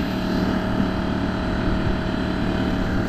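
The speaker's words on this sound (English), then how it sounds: "We're gonna put that pump on there and we're gonna pump out." A motorized pump draws oil out of an abandoned underground home heating oil tank, giving a steady, loud, unbroken drone with a low rumble that holds evenly throughout.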